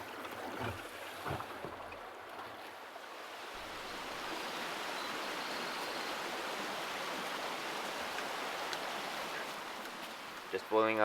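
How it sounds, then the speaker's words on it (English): Water heating on an alcohol camping stove at a riverside campsite, a steady hissing, roaring rush that builds after a few seconds and holds evenly up close, with light knocks at the start and a brief clatter at the end. "Just boiling up some water on the alcohol stove here."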